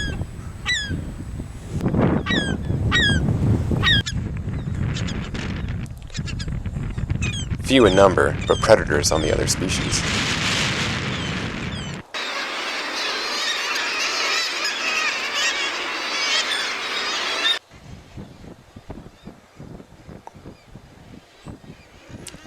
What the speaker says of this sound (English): And then there are the riotous glaucous gulls.